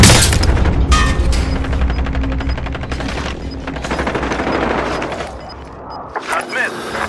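Heavy video game gunfire, sustained machine-gun bursts and booming impacts, pounds loudly and continuously, with shouted voices mixed in over the shooting.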